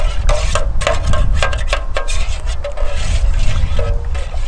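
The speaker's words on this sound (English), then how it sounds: "Mix that in good." Hot cocoa mixture stirred in a pot outdoors in the woods, a spoon clinking and scraping against the pot in quick irregular taps over a steady low rumble.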